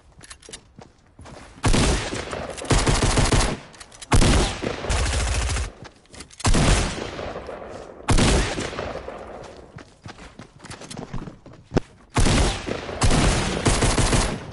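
Rapid bursts of gunfire from a Fortnite battle royale match, several loud sustained volleys separated by short pauses, with no talking over the shots.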